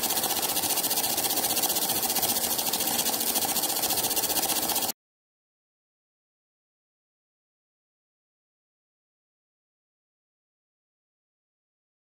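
A small model ion drive with a Corbino disc runs under DC power, giving a steady buzzing, motor-like whir for about five seconds before cutting off abruptly into silence.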